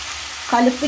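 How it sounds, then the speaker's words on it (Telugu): Brinjal pieces drop into hot oil in a pan with a sudden close sizzle that rises halfway through a short burst. "వంకాయ ముక్కలు వేసుకుందాం"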